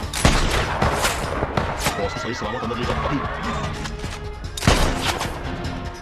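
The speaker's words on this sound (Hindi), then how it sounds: "वो तेरी गोली चली।" Gunfire in a Hindi-dubbed action thriller: two sharp, loud shots about four seconds apart cut through a noisy scene while someone shouts orders.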